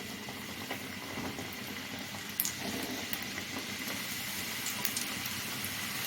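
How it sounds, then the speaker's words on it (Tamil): Samosas deep-frying in hot oil on a lowered flame, giving a continuous soft bubbling hiss with faint crackles. The sound is quiet and steady throughout, with no talk. "நம்ம எண்ணெயில் போட்டு பொரிச்சுக்கலாம்"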